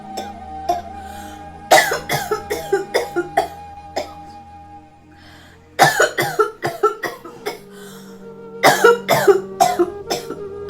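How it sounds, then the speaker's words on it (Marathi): Harsh, hacking coughs from one person nearby, coming in three separate bouts of rapid bursts with short quiet gaps between them. "काय झालं एवढं नरडा खरडू खरडू खोकलायला तुला?"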